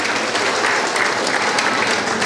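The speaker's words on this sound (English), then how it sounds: "So give big round of applause for her." Sustained, loud audience applause for a teacher at a school awards ceremony honouring top students, a dense even clatter of many hands throughout.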